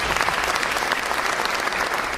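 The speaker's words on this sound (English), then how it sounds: "Now we can give them a round of applause." Guests at an interfaith dinner applaud a line of public officials being introduced, a full, continuous burst of crowd clapping, close and steady from start to finish.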